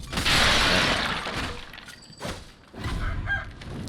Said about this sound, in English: You stupid rooster!